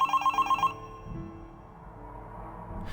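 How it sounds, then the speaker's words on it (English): Telephone in a phone box ringing inside Garry's Mod (Half-Life 2 mod), a loud bright electronic ring pulsing in about five quick bursts, then cutting off into low rumbling ambience. "Today, it was ringing."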